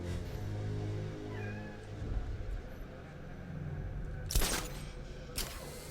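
A cat meows in Batman: Arkham Knight over steady game ambience, with a couple of drawn-out mews, some sharp clicks and a low voice underneath.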